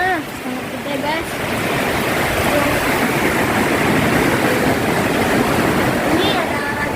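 Floodwater around a flooded house during heavy rain and strong wind makes a loud, continuous rushing roar, with brief high chirping calls rising above it near the start and end.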